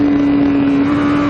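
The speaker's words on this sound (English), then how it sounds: "it's a noisy bike. That exhaust is loud. So is the intake." Honda CBR1000RR-R Fireblade SP superbike on a track, its loud exhaust and intake roaring as one steady, sustained engine drone for a brief stretch, close and strong, with wind rush and no talking.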